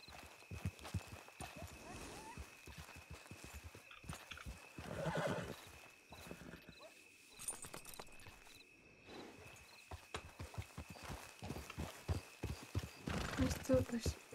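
Horses in the Red Dead Redemption II game neigh and whinny repeatedly while hooves clip-clop steadily underneath, with people talking throughout.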